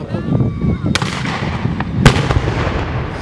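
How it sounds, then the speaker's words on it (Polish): A replica 1863 Austrian cannon fires at an outdoor battle reenactment, giving sharp, loud booms with crackling gunfire and muffled voices from the crowd around it. "Jesteśmy obecni z repliką armaty wzór 1863 na widowisku batalistycznym w Oświęcimiu."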